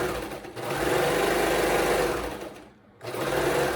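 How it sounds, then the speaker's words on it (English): A sewing machine stitches along the edge of legging fabric in a fast, steady whir, pauses briefly near the end, then resumes running up close. "then you have to stitch close to the edge as you can"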